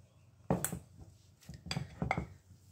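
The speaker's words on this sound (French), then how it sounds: "Donc je viens écraser ma chair de pommes de terre," A tablespoon mashes cooked potato flesh in a bowl, producing a few soft, close scrapes and clinks of metal against the dish in short separated bursts.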